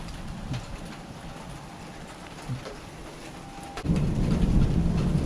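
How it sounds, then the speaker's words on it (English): Rain falls steadily during a severe hail-producing thunderstorm, then a deep roll of thunder swells in and rumbles loudly under the downpour for the rest of the stretch. "But these storms can absolutely go severe in a hurry."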